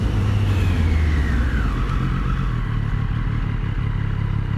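A Triumph Street Triple motorcycle engine revs under load with quickshifter gear changes, the pitch sweeping downward as gears change, loud and close with a steady mechanical roar.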